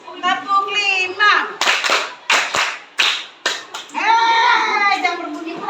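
Children in an Indonesian school classroom clap a patterned five-beat rhythm, sharp bursts of hand claps set between stretches of a teacher's and kids' talking.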